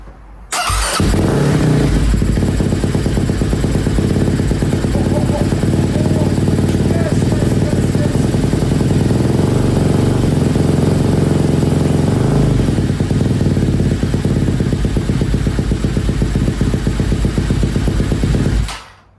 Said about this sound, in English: You never get tired of trying to run these engines for the first time.